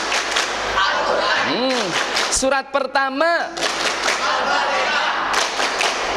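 Teachers at an ustadz training session on Quran recitation run a rhythmic hand-clapping game, with bursts of claps and thumps woven between a sung, chanted voice, close and fairly loud.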